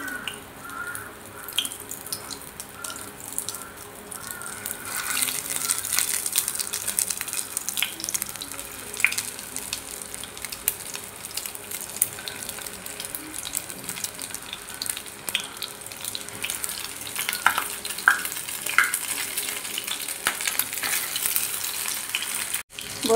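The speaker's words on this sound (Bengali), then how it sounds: "বন্ধুরা, এখানে তেলটা গরম হয়ে গিয়েছে, আমি এক এক করে পটলগুলোকে দিয়ে দিচ্ছি।" Stuffed pointed gourds frying in hot oil crackle and sizzle steadily and close by, with scattered sharp pops and a few stirring sounds as pieces go into the pan one at a time.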